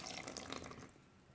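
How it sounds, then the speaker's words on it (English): Water poured into grout mix for a stained glass mosaic flower pot, a short close splashing trickle that fades out after about a second. "just pour in a little water at a time"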